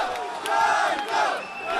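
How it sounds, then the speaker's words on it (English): A pro-Russian crowd at a rally in Kharkiv cheers and shouts together, a dense, loud roar of many voices rising and falling in a building during clashes. "The pro-Russian crowd cheers as Ukrainian government supporters are literally thrown out of the building."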